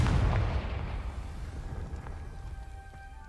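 A Confringo spell blast in the Hogwarts Legacy video game, a loud booming explosion at the start that rumbles and decays into a low lingering roar.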